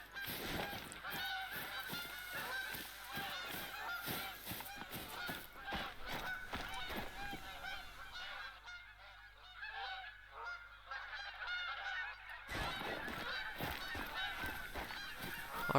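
Geese in a hunting video game honk repeatedly in a dense, overlapping flock chorus, fading briefly to a quieter stretch before the loud honking resumes near the end.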